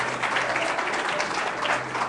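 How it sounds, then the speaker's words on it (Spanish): A church congregation bursts into applause, a continuous dense rush of clapping hands filling the room at moderate loudness, steady with slight swells and no voices above it. "Un aplauso para mi ayuda del Espíritu Santo"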